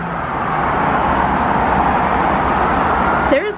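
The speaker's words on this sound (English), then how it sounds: "There's always so much traffic." City traffic in Chicago heard from a 10th-floor balcony, a steady distant roar of cars with wind, with a voice briefly at the end.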